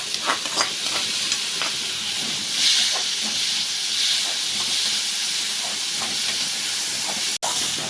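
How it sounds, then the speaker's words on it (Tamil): Onions and carrots frying in a pan with curry leaves and a dried red chilli, a continuous close sizzling hiss broken by occasional stirring scrapes, with no talk, and a brief cut near the end. "வெங்காயம் வதங்கிட்டு இருக்கு. இப்போ நான் கேரட் சேர்த்துக்கிறேன்."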